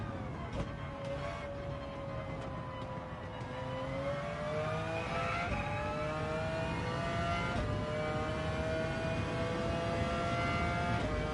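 In a racing video game, a Porsche and a Subaru race with their engines revving and rising in pitch as they accelerate, a steady mid-loud drone of engine noise that swells slightly toward the end, with no voices.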